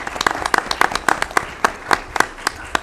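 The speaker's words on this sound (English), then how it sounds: "we should give her a round of applause" Sparse applause at a school board meeting, a handful of people clapping in distinct, fairly regular individual claps, close and moderately loud, with no talk over it.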